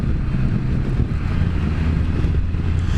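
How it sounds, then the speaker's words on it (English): Strong outdoor wind buffets the microphone in a continuous, loud, low rumbling roar with gusty fluctuations, alone without any voices. "but this wind is not good."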